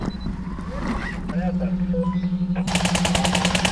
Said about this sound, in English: the landmine that I use for the R6D is a gas-powered spring system that detonates using this tiny little detonator